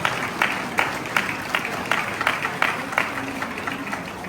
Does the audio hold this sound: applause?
yes